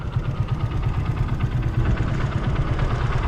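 A motorcycle engine idles steadily at close range, a low continuous throbbing rumble with no other sounds.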